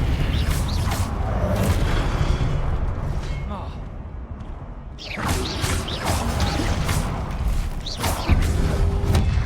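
A Confringo spell explosion in the game Hogwarts Legacy: loud booming blasts and crashes with whooshing bursts, a strong impact about five seconds in, layered over dense combat noise, with a voice talking throughout.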